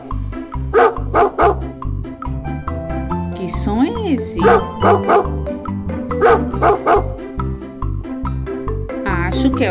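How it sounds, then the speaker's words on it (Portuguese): A dog barks several times in short bursts over an upbeat children's background tune during an animal-sounds guessing game, and a voice speaks briefly between the barks. "É isso mesmo, é o cachorro."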